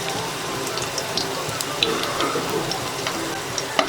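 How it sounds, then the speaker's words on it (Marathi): Garlic sizzles in hot oil for the tempering of a traditional Malvani red chickpea sambar, a steady close crackling fry with small pops scattered throughout and no talk. "लसणीचीच फोडणी द्यायची सांबाराला."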